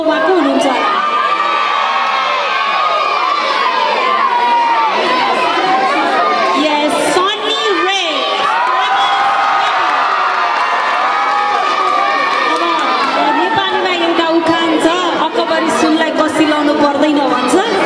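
A large crowd at an earthquake relief concert for Himalayan kids roars with cheering, whoops and shouting for the singer, a loud, sustained wall of voices with children's shrieks throughout.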